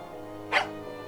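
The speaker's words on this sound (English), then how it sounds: "The dog yapped in agreement." A single short dog yap from the horror game Tiny Bunny, set in a snowy night scene, a brief mid-pitched burst standing out over a steady low background hum.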